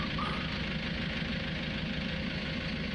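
A farm engine running at a steady idle, a dense, even low rumble with a knocking texture throughout, close and unbroken, with no voices over it.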